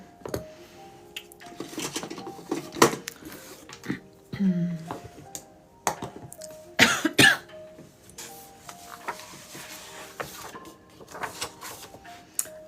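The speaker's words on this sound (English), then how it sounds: "I feel like I'm just coughing away" Scattered sharp coughs, some in quick pairs, break up a quiet room with faint clatter in between.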